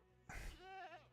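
A person imitates a goat's bleat with a short, wavering, nasal voiced call lasting under a second, close to the microphone and fairly quiet.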